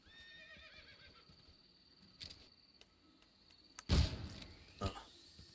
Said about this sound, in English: El caballo de... de The Boss